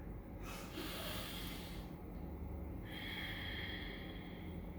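Deep, slow breaths drawn in and pushed out close to the microphone, with a sharp snort-like inhale near the start and a long airy exhale toward the end over a quiet room hiss.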